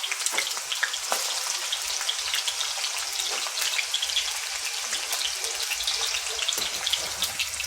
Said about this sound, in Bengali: শিমগুলোকে হালকা ভেজে তুলে নেব, বেশি ভাজবো না